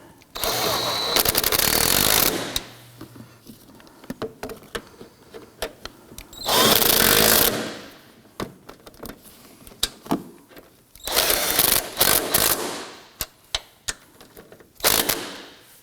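A power tool runs down the three strut nuts on a Toyota Camry front strut and spring assembly: three loud whirring bursts of a second or two each, with quieter clicks and metallic clinks between them.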